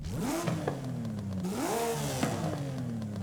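A Porsche Cayman GT4 RS with an upgraded exhaust in Forza Horizon 5 revs hard, its engine pitch climbing, dropping and climbing again in two rising sweeps, loud and close with no talk.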